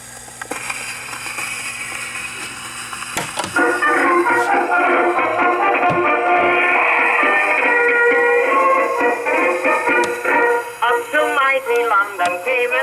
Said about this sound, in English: Let's put the needle on the record.